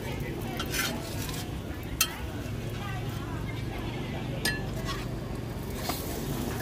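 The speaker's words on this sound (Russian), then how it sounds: "Что-то плохо жарится, обычно быстро." Roti pancake frying in margarine in a pan, a soft, continuous sizzle with occasional clinks and scraping sounds, fairly quiet throughout.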